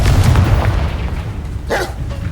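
A fire-blast spell explosion in the Hogwarts Legacy video game, a loud, sustained rumbling boom with a brief burst near the end, heard without any talk.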